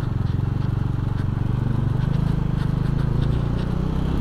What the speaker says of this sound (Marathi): इधर बाइक का खुड़खुड़ा हो जाएगा.